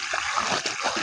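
Water poured from a container splashes and spatters onto the soil at the base of a tree in a home garden, a close, busy, irregular wash of small splashes with no talking.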